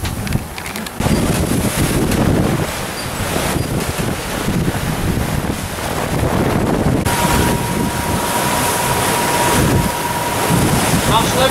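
Oceanis 48 sailboat under sail at sea, with heavy wind rushing over the microphone and waves sloshing against the hull, loud and continuous, and a faint steady tone appearing partway through.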